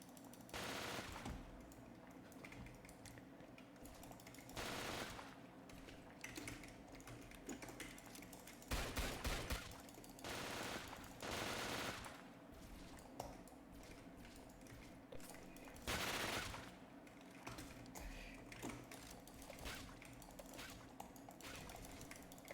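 Gatling gun firing in the game Isle, heard as bursts of rapid gunfire coming and going over a steady busy game background, with several louder volleys standing out.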